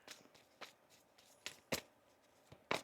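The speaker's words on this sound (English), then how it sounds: "One more shuffle here." A deck of tarot cards shuffled by hand, faint, uneven riffles and soft slaps spaced through the moment, close and quiet with no talking.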